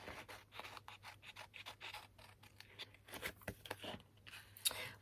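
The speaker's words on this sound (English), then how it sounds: "So let me cut around real quick here." Scissors fussy cutting around paper for bee-themed resin trays, a quick run of small crisp snips and scratchy paper rustle, close and quiet, with no talking.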